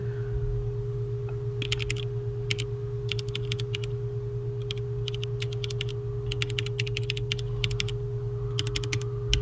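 Bursts of clicky mechanical keyboard typing on a computer keyboard with changed keycaps, in quick irregular runs, over a steady low electrical hum, with no voices.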